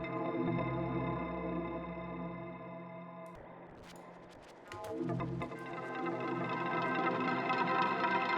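A sustained, effected musical tone that breaks into grainy, scattered fragments midway, then swells back into a dense, shimmering wash of reverb.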